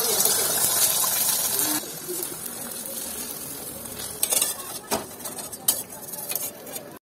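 Egg cooking in a wok, a continuous close sizzle with clinks and scrapes of a utensil against the metal, a few sharp taps later on.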